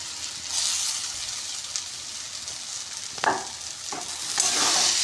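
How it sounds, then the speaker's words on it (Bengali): Potatoes tip into hot spiced oil for a vegetarian jackfruit and potato curry, frying with a steady bright sizzle as a spoon stirs, with a few louder scraping clatters near the end. "এবার আমি আলুগুলো এর মধ্যে সব দিয়ে দিচ্ছি"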